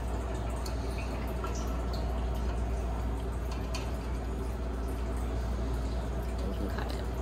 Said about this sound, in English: Make sure you drain off some of that water.